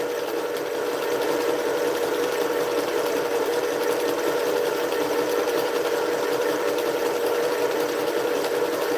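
A sewing machine stitching a quilt top runs continuously at a steady fast hum with rapid needle clatter, close and fairly loud, with no speech.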